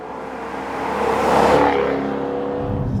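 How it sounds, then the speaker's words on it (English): Jaguar F-Type R exhaust revving up close, swelling to a loud roaring peak then easing back to a steady throaty idle, alone without talk. "That exhaust noise is actually rather irksome."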